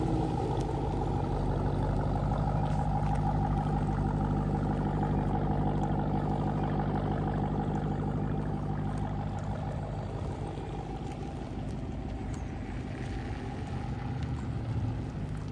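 A supercharged Jeep Trackhawk engine hums steadily while the car is driven, a continuous low rumble with a slight dip in intensity midway and no voices over it.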